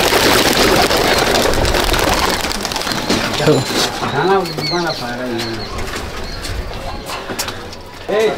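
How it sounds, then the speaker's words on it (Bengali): Pigeons at a village loft during a flying competition coo in low, rolling calls while wings flap around the loft, a busy near flurry that settles into softer repeated coos. "পায়রা ঘুরছে।"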